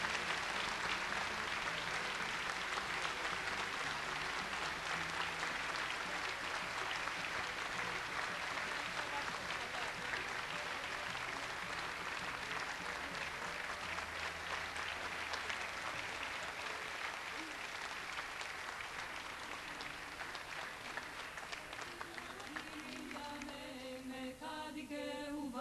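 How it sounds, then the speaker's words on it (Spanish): Sustained loud applause from a large theater concert audience, continuous for the whole stretch, with music starting to come in near the end. "¡Fuerte el aplauso!"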